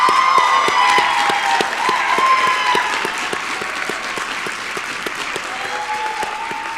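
A small graduation commencement crowd applauds and cheers after the class of 2023 move their tassels, producing continuous dense clapping with scattered whoops at moderate distance that gradually eases.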